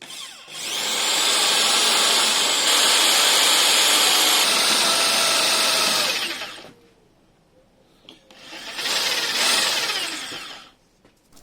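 A power drill bores out seized studs on a Triumph TR7 engine block. A long, steady high-pitched whine is followed by a pause and then a second shorter run, close and loud, with no talking.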